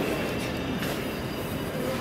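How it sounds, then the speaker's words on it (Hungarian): Passenger train pulling out of a station on a Hungarian zone service bound for Szolnok, with steady continuous rumble, wheel noise and a faint high squeal, close and sustained without talk. "Z60-as zónázor vonat indul Szolnokra."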